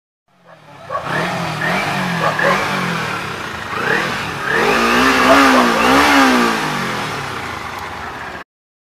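A Kawasaki Ninja motorcycle engine revs up and down in several rising and falling sweeps, loud and close, with no talk over it.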